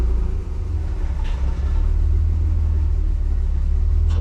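A Nissan 300ZX convertible driven on the road, its engine and drivetrain making a steady, loud low rumble with constant road noise throughout and no talk.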